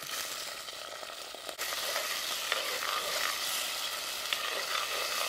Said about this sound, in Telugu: ఉల్లిపాయలు బాగా ఎర్రగా వచ్చేటట్టు వేపుకుందాము. చిన్న చేపలను వేసుకుందాం